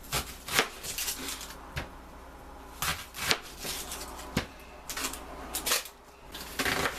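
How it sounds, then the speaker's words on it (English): A knife slices through a yellow onion on a cutting board, giving close, crisp irregular cuts and knocks in small bursts with brief pauses between them. "Now I'm going to cut 1 yellow onion."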